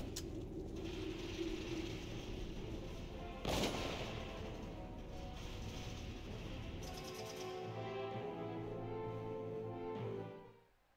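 A sniper rifle fires in the war strategy game Valkyria Chronicles: one sharp, loud crack cuts through steady battlefield ambience and background music, with no talking.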